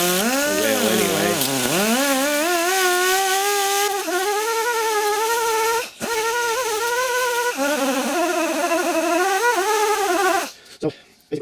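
A small power sander works over a Browning Hi Power pistol before a Cerakote refinish, a loud buzzing whine whose pitch sags and climbs with pressure, cutting briefly twice before stopping near the end.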